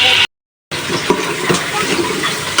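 Hilsa fish pieces sauté in a pan, a continuous close sizzle and crackle with light stirring scrapes, cut by a brief silent gap near the start.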